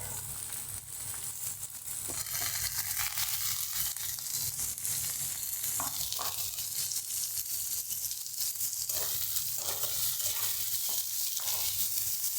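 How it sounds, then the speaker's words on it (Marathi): Sliced onions sauté in a pan for a home-style matar bhaat, giving a steady, loud sizzle with scattered crackles and occasional scraping stirs, with no voices. "कांद्याला परतून द्यायचा आहे"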